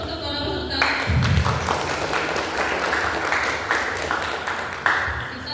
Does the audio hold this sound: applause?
yes